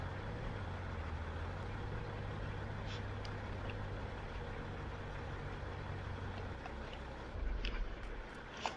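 A truck loaded with logging equipment idles with a low, steady engine rumble, then shifts near the end as it pulls ahead. Faint voices sound beneath the engine.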